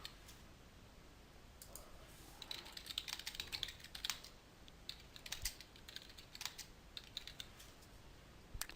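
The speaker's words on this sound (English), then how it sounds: "if we type in here, Week 1 Reflections," Someone types on a computer keyboard, with irregular bursts of light, close key clicks that start after a quiet pause and continue in uneven runs, faint and alone.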